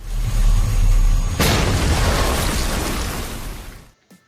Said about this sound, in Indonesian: Tak lama setelah mobil itu di starter, boom! Mobil itu meledak